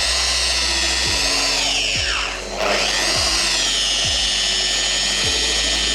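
Machine polisher working compound over scratched BMW M4 paintwork, a loud continuous whine with a brief dip in speed partway through and regular low thumps as the pad rotates, close up with no talk.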